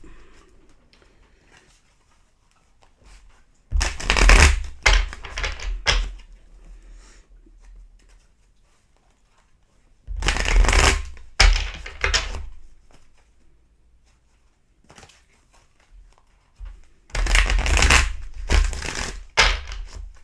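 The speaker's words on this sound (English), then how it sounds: "2 more shuffles for you" Tarot cards are shuffled in three separate bursts of rapid riffling and flapping, close to the microphone, with quiet pauses between them.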